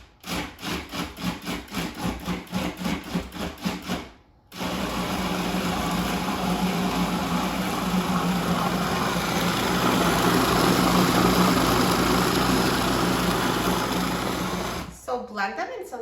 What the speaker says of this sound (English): I'm going to process them in a food processor to blend them into Oreo dip